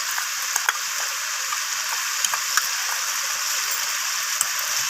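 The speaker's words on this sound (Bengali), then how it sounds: "তো সমস্ত কিছু আমি আবারও কষিয়ে নিচ্ছি।" Chicken curry with ginger paste and squash is sautéed in a pan, producing a continuous bright sizzle and hiss, with occasional sharp clicks and scrapes from stirring and no voices.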